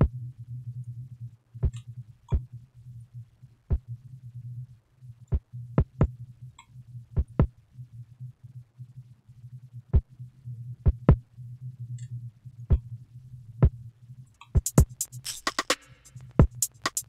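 A soloed kick drum with reverb on the sustain and saturation on the attack plays over a steady low hum, with sparse sharp clicks scattered irregularly and a brief busier burst near the end.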